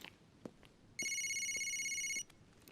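A telephone rings with one steady electronic ring lasting just over a second, sharp and prominent over a quiet indoor background with a few faint knocks before and after.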